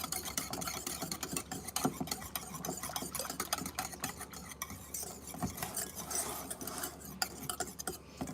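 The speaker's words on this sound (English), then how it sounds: "take a whisk and stir this up too" A whisk stirs batter around a mixing bowl, giving a continuous close scraping and swishing with rapid uneven strokes and no pauses. No one speaks.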